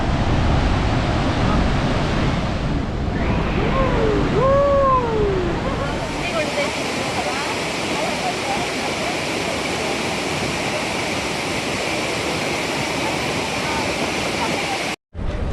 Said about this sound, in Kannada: ಸೊ ನಾವಿದ್ದೀವಿ ಗಗನ ಚುಕ್ಕಿ ಫಾಲ್ಸ್ ನೋಡೋಕ್ಕಂತ ಬಂದೀವಿ.